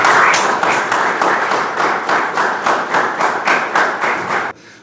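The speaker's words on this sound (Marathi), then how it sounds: "आपण सगळेजण उभे राहून टाळ्या वाजवून मानवंदना देऊ" An audience stands and claps together in tribute, the hands striking in a steady synchronized rhythm of about a dozen beats before the clapping stops abruptly; the sound is close and full, with no talking over it.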